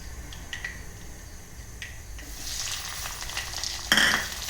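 Cumin seeds and onion pieces hitting hot oil in a pan, first a faint crackle and then a louder, brighter sizzle that swells as the onions go in, with a sharp burst near the end.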